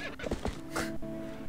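A horse neighs in Zelda: Twilight Princess, a short whinny rising midway through with faint hoof clops and game ambience beneath; no talking.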